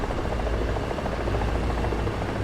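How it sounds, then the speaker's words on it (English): Two helicopters fly overhead in the War Thunder tank battle, a steady, dense rotor drone and buzz that holds moderately loud and unbroken, with no voices over it. "2 helicopters up."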